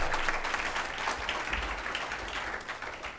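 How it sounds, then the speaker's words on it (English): Audience applause at a BlueGreen Champion Awards ceremony, a steady wash of many hands clapping that fills the room for about three seconds and tapers slightly toward the end. "So please give them a round of applause."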